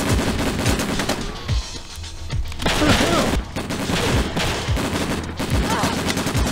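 Rapid bursts of gunfire and automatic shooting from the video game Breakdown, loud and close, with repeated volleys and short gaps, while a player talks faintly underneath.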